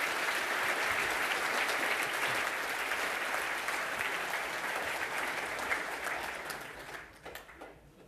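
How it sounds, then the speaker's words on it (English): An audience at a Chaos Communication Congress talk on shooting lasers into space applauds a speaker, loud sustained clapping that holds steady, then thins and fades out near the end. "I want to hear a really loud and warm applause for Peter Buschkamp with Shooting Lasers int"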